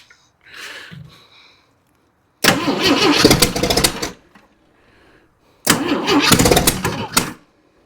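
A used Jeep 4.2 engine cranks in two strong, roughly one-and-a-half-second bursts separated by a pause. Each burst is loud and close, with a starter grind and sputtering attempts to catch, but the engine never settles into a run.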